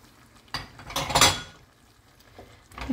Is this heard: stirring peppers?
yes